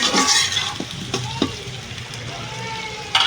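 Whole garam masala sizzles and fries in oil in a pot for khichuri, with steady hiss and a few sharp stirring clinks, loud and close throughout.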